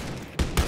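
Two loud, booming shotgun blasts about a fifth of a second apart ring out in the first-person shooter Wolfenstein: Youngblood, each with a sharp attack and a short, rumbling tail.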